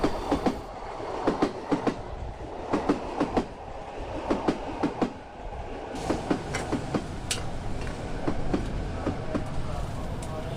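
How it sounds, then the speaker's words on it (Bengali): A train rolling slowly into a station, with rhythmic clickety-clack of wheels over rail joints repeating at a steady pace under a continuous rumble, close and fairly loud. "ট্রেনটা ধীর গতিতে স্টেশনে প্রবেশ করলো।"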